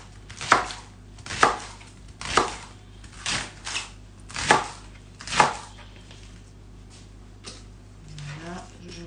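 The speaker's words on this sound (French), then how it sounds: "On coupe en morceaux." A knife chops leeks into pieces on a cutting board in a kitchen, six or seven sharp, well-spaced thuds, close and clear, then a quieter tap and faint rustle.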